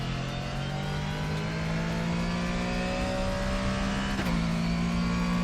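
Mustang race car in the RaceRoom racing game held at full throttle in third gear, a loud steady engine drone with rising pitch that dips briefly at a gear shift, continuous and close throughout.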